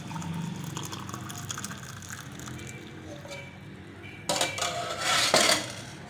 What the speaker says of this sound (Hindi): ये देखिए, अब हम कप में इसको छान लेंगे अच्छी तरह से।